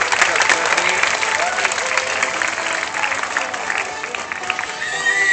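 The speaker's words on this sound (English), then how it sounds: "please give Sparky another big round of applause" Zoo audience applauding Sparky the sea lion at the end of a show at Como Zoo, a dense, loud, steady clatter of clapping from a large outdoor crowd lasting throughout, with a few voices mixed in.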